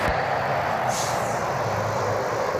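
Frontier airliner taking off from runway 24 left at Cleveland Hopkins airport, a loud, steady jet roar with a broadband rushing hiss, close and continuous, with no voices.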